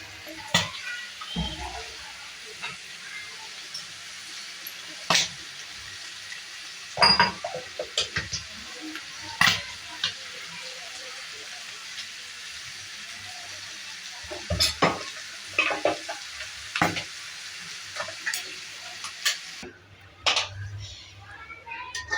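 Mutton liver fries in oil in a home kitchen with a faint, steady sizzle. Scattered clinks and scrapes of a utensil against the pan sound throughout, and a few bumps are louder.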